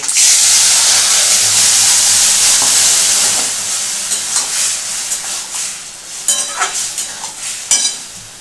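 Cooked mung dal poured into a hot pan of oil, curry leaves and mustard seeds erupts in a loud close hiss that slowly fades into bubbling crackle and occasional stirring clinks.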